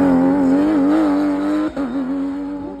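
Porsche race cars at the Hemberg hill climb race roaring past: a loud, sustained engine note with wavering pitch, briefly dipping before the revs pick up again, nearby and alone without talk.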